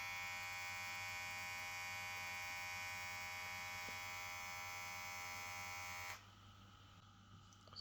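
A Pritech PR 2593C hair clipper runs at its second speed, giving a steady, loud electric buzz that holds level for about six seconds and then drops off sharply as it is switched off.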